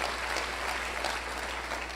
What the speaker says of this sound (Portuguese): Pode aplaudir o Senhor mais uma vez?